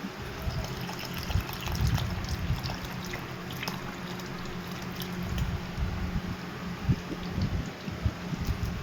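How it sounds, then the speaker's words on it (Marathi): Water pours into a jar in a soft, continuous trickle and splash, faint and close, with no voices over it. "हेच पाणी आपल्या ह्या जारमध्ये देखील आपण ओततोय."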